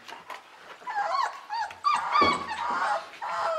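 Young puppies at about 26 days old whimper and yip in a close, busy chorus, high-pitched cries overlapping with short squeaky yelps and a low growl, with no talk over them.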